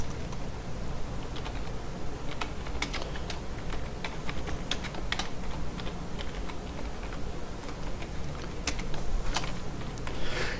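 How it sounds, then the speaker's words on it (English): Rapid computer keyboard typing clatters continuously over a noisy background, the keystrokes dense and fairly even with a few louder clicks. "So here I'm going to type"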